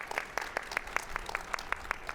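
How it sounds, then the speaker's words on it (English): Audience applause at a community fundraising gala, a steady patter of claps from a crowd in a hall, fairly soft and even across the whole moment, with no voices over it. "Let's give them a round of applause."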